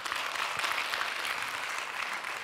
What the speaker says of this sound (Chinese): 来掌声一下